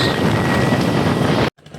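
Cold wind roaring across a microphone on a moving motorbike, a loud, steady, dense rush that cuts off abruptly near the end, leaving only faint low rumble.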